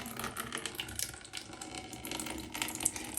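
Fertilized, fizzing water is poured slowly by hand into a container of butterwort growing media, a soft steady trickle and splash with small bursts of spatter throughout.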